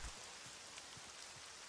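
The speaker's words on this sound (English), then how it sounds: "The rain." Steady rain falls in the blocky survival game TerraFirmaCraft, a modded Minecraft, as a soft, continuous hiss with faint scattered drops, quiet and alone.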